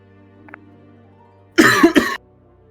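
A person coughs twice in quick succession, loud and close, after a faint brief click, in an otherwise quiet room.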